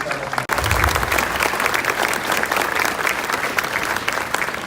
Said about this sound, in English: Let's take a big round of applause for all of the Sam Rayburn Shining Stars.